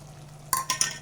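Tomato thokku mixed with kulambu powder and chilli powder in a pan, with three short scraping stirs in the second half over a low steady hum, close and fairly quiet.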